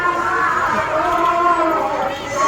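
Dense, busy crowd chatter at a temple fair during Navratri, a steady close wash of overlapping voices with no single speaker standing out.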